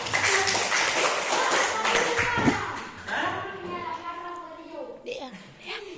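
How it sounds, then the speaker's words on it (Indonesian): Schoolchildren in a class clap together in a brief, uneven burst of close hand claps, with children's voices chattering around it and a lull midway before a few more claps. "Tepuk tangan semuanya"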